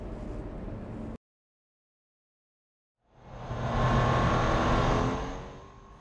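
A BMW M3 or M4 drives on the Guadix circuit in southern Spain in midsummer: a brief loud broadband passage, a few seconds of silence, then the engine and road noise swell in and hold steady, loud and close.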